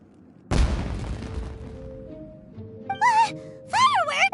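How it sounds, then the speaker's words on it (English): Fireworks going off in the video game Genshin Impact: one loud booming blast followed by a decaying rumble, then characters' voices and exclamations over a soft musical tone. "Fireworks? Huh? Was that an explosion?"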